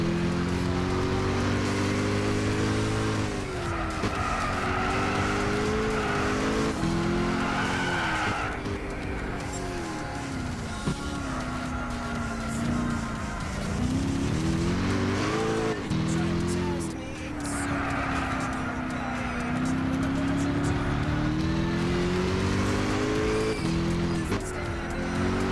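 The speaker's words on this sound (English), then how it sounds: "I just noticed the tires are spinning." Tires spin and squeal in the Gran Turismo 6 racing game: a steady skidding screech rides over a droning, wavering engine note for the whole stretch, with a voice at times.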